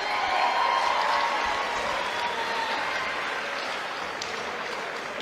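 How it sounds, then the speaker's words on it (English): Sustained crowd applause fills a boxing event in Grimsby after a professional bout, dense and steady throughout, tapering only slightly toward the end. "let's have a round of applause, please, for both these boxers inside the ring."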